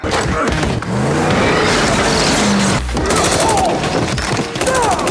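Bursts of rapid gunfire crackle through a dense, loud action scene from Fast X, with booming impacts and shouting voices mixed throughout.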